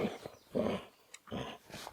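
A dog chewing on a floating gun case, with low growls and muffled gnawing coming in uneven bursts separated by short pauses, close by and moderately loud, no talking.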